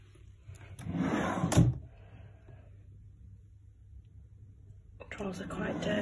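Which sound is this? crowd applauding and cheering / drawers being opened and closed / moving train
drawers being opened and closed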